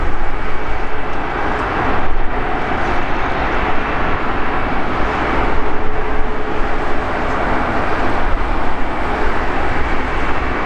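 Airplane passing at London Heathrow airport, a loud continuous broadband engine roar that swells and fades slightly across the whole stretch, with no talk over it.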